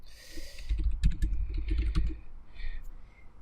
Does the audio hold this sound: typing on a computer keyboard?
yes